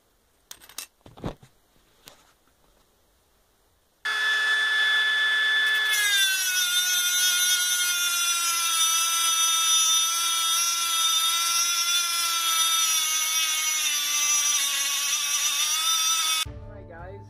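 Dremel rotary tool grinding slots wider in a 3D printed stainless steel part, starting after a few faint handling knocks, then a loud, steady high whine running about twelve seconds before cutting off.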